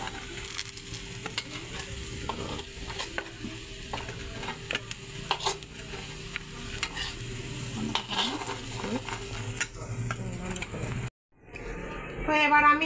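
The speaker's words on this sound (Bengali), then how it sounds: "দেখো কি সুন্দর পিস পিস করে ভাজা হচ্ছে" Soybean dhoka pieces fry in oil, with a continuous close sizzle and frequent scraping, clinking stirring strokes throughout, broken by a brief drop-out near the end before the sizzle returns.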